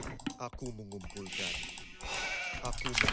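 Sheep bleating in the real-time strategy game Age of Empires II, repeated game bleats over a soft clicking of keyboard and mouse, with someone talking faintly in the background.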